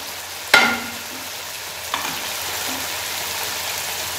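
Spices such as red chilli powder, turmeric and garam masala fry for mutton yakhni pulao, with a sharp spoon scrape against the pan, a second softer clink, and a quiet sizzle running beneath.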